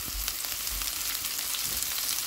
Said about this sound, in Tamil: இப்போ பாருங்க, இந்த இஞ்சி உள்ளி போட்டு வதக்கம்.